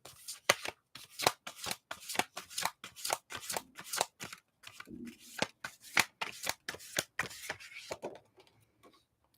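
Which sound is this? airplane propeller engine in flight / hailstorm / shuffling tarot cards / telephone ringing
shuffling tarot cards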